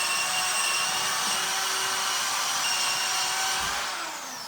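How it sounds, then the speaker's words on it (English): A power sander works steadily on wood during a TV lounge makeover, with a loud, continuous whirring grind that holds even and close, easing slightly at the end, with no talking. "So basically more sanding."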